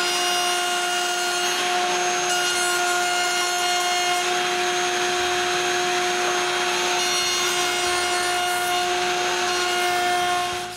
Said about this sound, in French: Je lui coupe donc un chanfrein tout autour.